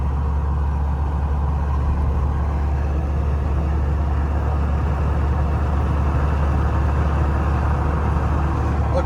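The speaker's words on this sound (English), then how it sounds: "the whole truck vibrates like hell at 60 miles an hour" Pickup truck on Atturo Trail Blade Boss mud tires cruising at about 60 mph, a steady loud low rumble and road drone with constant vibration throughout, no talking.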